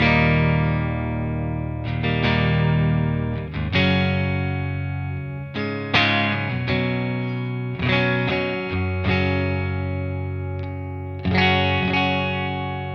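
A Telecaster's neck pickup plays a clean electric guitar through the clean channel of a VX100 amp with a touch of reverb, strummed chords and single notes ringing and decaying in short phrases.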